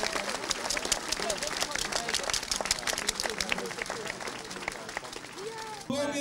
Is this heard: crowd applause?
yes